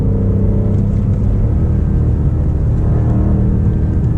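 A BMW M5 Competition with a torque converter automatic gives a loud, continuous low engine rumble from inside the cabin. It holds steady under acceleration, with no clear break for a gear change.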